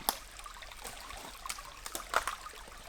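Water at the Pwll-y-Wrach waterfalls rushes and splashes in a steady, fairly soft wash, with a few brighter splashy bursts standing out from the flow.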